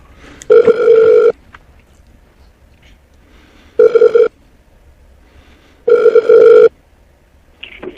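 Ringback tone on a phone call to a county prosecutor's office comes as three loud, evenly spaced ring bursts with quiet pauses between them and no talking.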